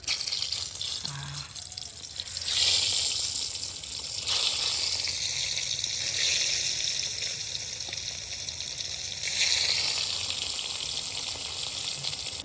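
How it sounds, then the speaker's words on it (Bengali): Eggs frying in a pan alongside potatoes in a village kitchen, a soft steady sizzle and crackle with bursts of louder hissing, continuous and fairly close, with no talking. "ডিম ভাজা হোক"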